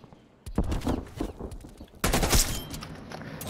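Gunfire in Call of Duty: Black Ops Cold War arrives as two loud bursts of rapid automatic shots, the first starting early and sputtering, the second sharper and denser, with sustained rattle between and no talk.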